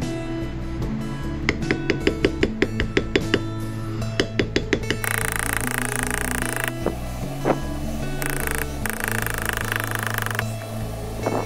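Leather being tooled with a bevel tool for a blue knife sheath, struck in a quick series of sharp, evenly spaced mallet taps that stop, followed by scattered single knocks over steady background music.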